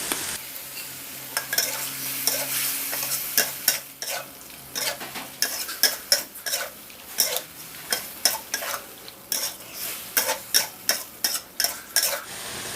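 Pork with curry paste sizzles in a pan while a spatula scrapes and taps in a steady stirring rhythm, strokes growing sharper and more regular, close and loud with no talk.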